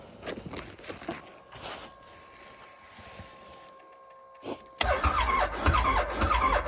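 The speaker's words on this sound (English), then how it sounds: "She's still turning over slow." A cold engine cranks slowly on a weak battery in winter, with faint uneven turning followed by a loud, sustained burst of running noise as it catches and keeps going near the listener.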